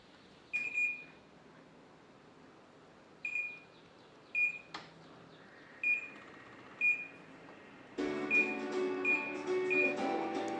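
Several short electronic beeps sound one by one, then an air conditioner whirs on into a steady airy hum as more beeps follow.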